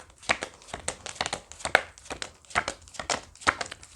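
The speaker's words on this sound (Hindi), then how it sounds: "पहले मैं सारे कार्ड्स निकाल लूँ फिर आपको बताऊंगी" Tarot cards being pulled from a deck, a quick run of close papery crinkles, shuffles and flicks repeating in a busy rhythm.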